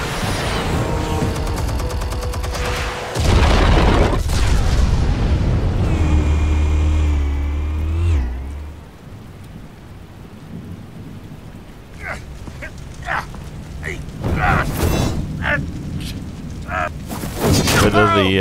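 Armed explosives detonating in Batman: The Telltale Series, with a heavy, rumbling boom about a third of the way in that rolls on for several seconds. Game voices and sounds come and go around it.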